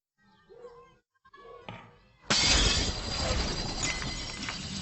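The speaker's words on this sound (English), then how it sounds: "You won't just hear glass break." Glass shattering as a sound effect in a 3D audio demo: a sudden loud crash bursts in after a few faint tones and then rings out as a dense, sustained spray of falling shards.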